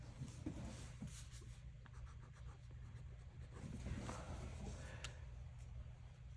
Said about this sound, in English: I want to write in a color that you all are going to be able to see